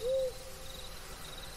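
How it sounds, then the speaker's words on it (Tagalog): A single eerie hooting call, soft and somewhat distant, rises briefly and fades into a quiet night backdrop of low hiss and faint insect noise, attributed to an aswang creature in a Mindanao wakwak tale. "may humuni na kakaiba. Huni ng isang nilalang na kinatatakutan ng lahat."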